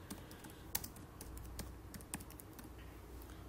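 Keys tapped on a computer keyboard while typing text into MS Word, quiet and close, with irregular clicks and a few sharper strokes, no voices.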